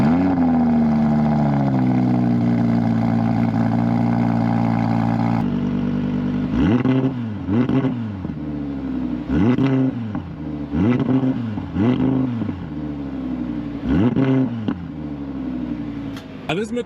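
A 2022 Audi R8 V10 Performance revs loudly: a steady high idle drone, then a rapid series of sharp throttle blips, each rising and falling, close and loud with no talk over it.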